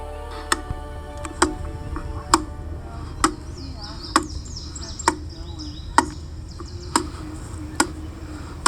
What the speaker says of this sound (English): The chopping you are hearing is a handmade stone tool chipping away at a failed tree.